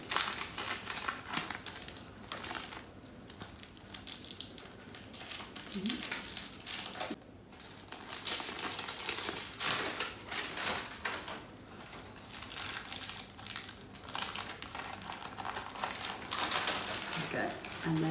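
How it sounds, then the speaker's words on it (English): Greaseproof paper peeled slowly off a baked chocolate sponge for a Yule log, giving a steady run of close, dry crinkling and tearing rustles with small clicks, faint and continuous throughout. "Let's take the tin off and peel off the greaseproof paper carefully."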